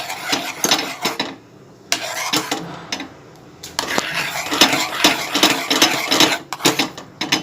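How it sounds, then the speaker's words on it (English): Metal spoon scraping and clinking steadily against a pan as milk is stirred continuously over a medium gas flame while it cooks down into mawa (khoya), with busy repeated strokes and brief pauses. "Okay, continuously stir."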